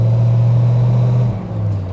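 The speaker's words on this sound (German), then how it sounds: "wir wollen euch den größten jemals gezeigten Mercedes in voller Fahrt zeigen" A massive 1940 armoured Mercedes 770 open touring car, nearly five tonnes, drives past with a loud, deep engine drone and steady low hum that dips and wavers slightly toward the end.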